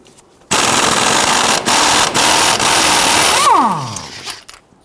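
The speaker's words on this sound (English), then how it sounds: "We're going to use our deep 15mm socket on our impact gun." An impact gun with a deep 15mm socket hammering loose a sway bar link nut on a 2000-2006 Toyota Tundra. Loud rapid rattling bursts come in several runs, then a whirring spin-down as the nut comes free.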